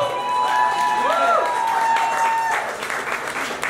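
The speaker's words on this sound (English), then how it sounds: "so let's give them all a round of applause." Audience applause at a taco eating contest with a comedy show, steady clapping from a crowd under a swooping tone and some chatter, sustained for several seconds.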